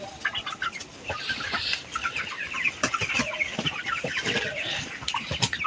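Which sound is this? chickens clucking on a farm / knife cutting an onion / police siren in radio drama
chickens clucking on a farm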